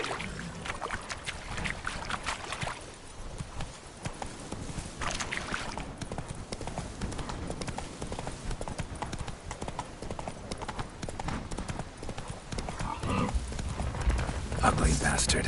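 Roach, a horse in The Witcher 3: Wild Hunt (Blood and Wine), gallops with rapid rhythmic hoofbeats that carry through the whole stretch, mixed with game ambience and a voice speaking over it.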